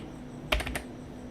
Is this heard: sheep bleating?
no